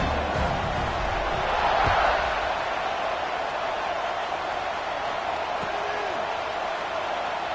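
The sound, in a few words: football stadium crowd cheering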